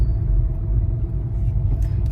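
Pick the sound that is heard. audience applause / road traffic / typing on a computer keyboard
road traffic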